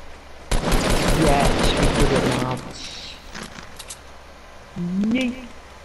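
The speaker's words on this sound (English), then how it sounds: "I don't know where this guy's shooting me from, but I know there's someone trying to snipe me." Fortnite gunfire: a loud, rapid burst of automatic shots for about two seconds, then scattered fainter shots with a person talking over the game sounds.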